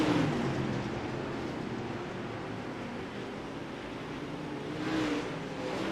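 UMP Modified race cars on a dirt oval in a close race with two laps to go, engines droning steadily at a distance with a louder surge of revving as cars pass near the end.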